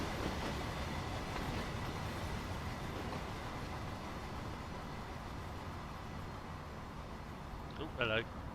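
Continuous rumble and rolling wheel noise of a train running in Train Sim World 6, held steady throughout with a brief voice near the end.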